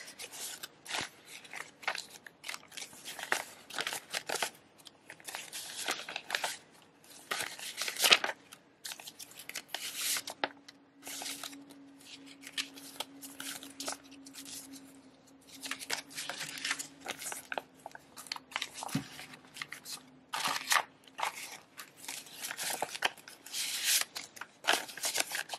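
Paper cash bills being counted by hand for budget envelopes, a close run of crisp flicks and rustles in quick irregular bursts with short pauses, no talking.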